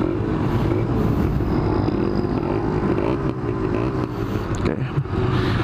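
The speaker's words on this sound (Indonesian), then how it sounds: "Motor gue udah gue panasin sih." Kawasaki Ninja 150 RR motorcycle, engine warmed up, idling close by: a steady, buzzy two-stroke-like drone with an even throb, continuous and fairly loud throughout.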